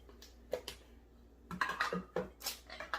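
A spoon scrapes and clinks against a bowl, stirring a small teaspoon of cacao powder into homemade donut frosting. The clatter comes in short, close bursts with quiet pauses between them, and no one speaks.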